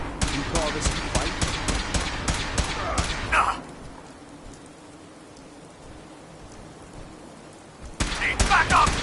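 Rapid gunfire bursts from a Fallout 4 firefight crackle loudly for the first few seconds, fall to a quieter lull, then return in a sharp burst near the end, with game voices calling out amid the shooting.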